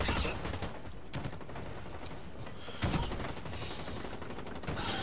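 Gunfire in a first-person shooter video game: scattered sharp shots and short bursts crackle at moderate volume over faint background noise, with no talk.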